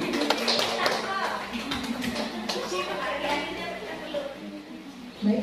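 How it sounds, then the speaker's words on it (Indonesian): An audience at a school gathering in Pontianak claps steadily, a dense ongoing patter of hands with some murmuring voices underneath. "Boleh tepuk tangan."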